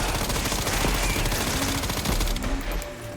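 Dense, sustained automatic gunfire from the video game Resident Evil 9 roars loud and close for about three seconds. Rapid shots blur into a continuous rattle that thins slightly at the end.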